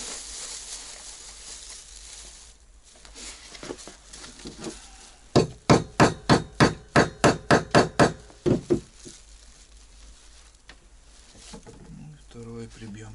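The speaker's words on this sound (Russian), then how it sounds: "Прибьем сюда, прибить это побольше, что ли, гвозди." Nails being hammered inside a wooden hut: a fast run of about a dozen sharp, loud strikes in steady rhythm at the middle, with scattered quieter knocks and handling before and after.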